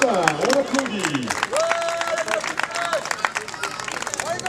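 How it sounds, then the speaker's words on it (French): Audience at a medieval combat tournament applauding as a challenger steps forward, steady clapping spread across a crowd under a voice speaking over it. "On applaudit"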